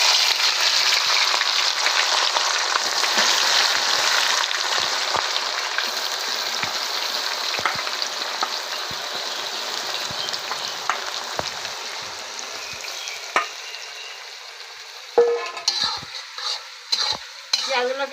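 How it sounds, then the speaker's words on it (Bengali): Onions dropped into hot oil for biryani set off a loud, hissing sizzle that slowly settles into a softer crackle, followed near the end by clattering stirring strokes in the pan. "তেলের মধ্যে আমি পেঁয়াজগুলো ছেড়ে দিচ্ছি।"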